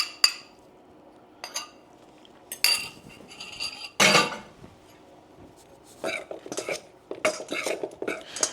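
Ingredients for keto cinnamon orange rolls are mixed in a bowl, with irregular clinks and scrapes of a utensil against the dish, some sharp knocks and quieter gaps between bursts.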